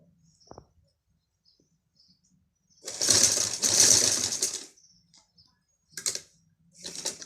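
A sewing machine stitches over piping on a girl's A-line frock kurti in a short burst of close, fast clatter, then two brief follow-up spurts amid near silence.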